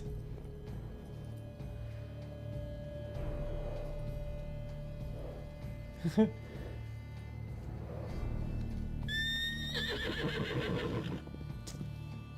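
In the video game Witcher 3: Blood and Wine, a horse gives a loud, close neigh with a rising, quavering whinny near the end, over low ambient game sounds and a brief thump.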